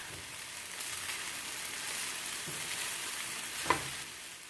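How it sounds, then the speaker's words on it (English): Shrimp fried rice sizzles in a pan as it is fried and stirred Chinese takeout style, a soft, steady crackle with occasional scraping stirs and one sharp clink near the end. "continue frying and mixing this rice until it is combined well"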